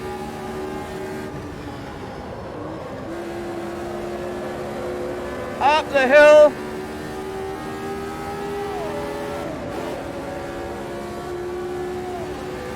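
Lotus 79 race car engine in Automobilista 2, a steady droning note that lifts and drops through a corner, with a brief loud rise in revs midway, while someone says a few words.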